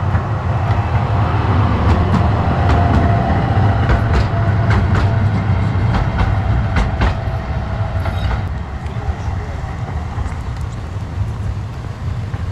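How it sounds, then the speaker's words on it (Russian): Steady low rumble of a tram rolling along rails in Antalya, Turkey, with faint clicking and squealing overhead, loud and continuous throughout with no voices. "А вот трамвайчик."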